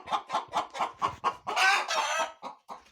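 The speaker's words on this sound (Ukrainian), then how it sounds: "вона кудахче" A hen clucks in a quick, steady series of short calls, then breaks into a louder, drawn-out squawk before a few more clucks, close and clear.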